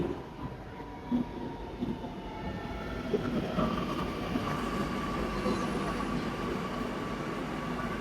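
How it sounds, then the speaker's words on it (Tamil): Steady rumble and rolling rattle of a Kochi Metro train in motion, heard from inside a carriage, with faint clicks and a high hum above. "இப்போ கொச்சி மெட்ரோ ட்ரெயின்லேயும் போகிறோம்."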